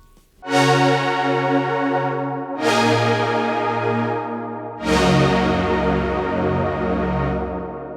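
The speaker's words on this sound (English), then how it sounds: "like the old trusty synthesizer brassy sound" Three sustained brassy synth chords, each struck sharply and held for a couple of seconds, ringing out bright and buzzy with no talking.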